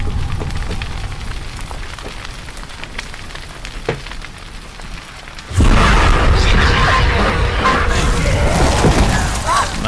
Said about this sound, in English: Oh, here the fire.